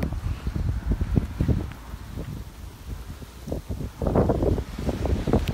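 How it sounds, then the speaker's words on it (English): Heavy hailstones pour down outdoors at a crossing. The result is a dense, loud, rushing roar that swells and eases in waves, with no voices. "the hailstones are whizzing down like waves"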